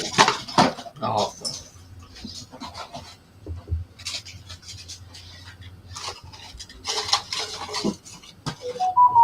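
Pots are dropped and clatter in a scatter of sharp metallic knocks and rattles spread across the stretch, with a voice talking in between.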